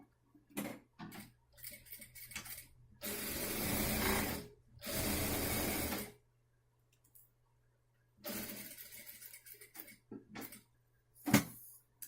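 A sewing machine stitches a seam along a fabric border for a small towel, running in two sustained bursts with shorter intermittent whirs and ticks between pauses, close and fairly quiet.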